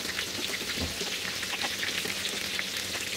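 Thin fish fries in a pan half filled with oil, a steady soft crackling sizzle with scattered pops, moderately quiet and close, with no talking.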